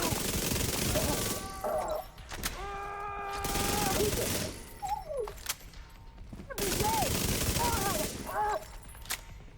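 Submachine gun bursts in a video game, loud rapid gunfire alternating with stretches of game sound effects and tonal chirps, with in-game voices talking between the bursts.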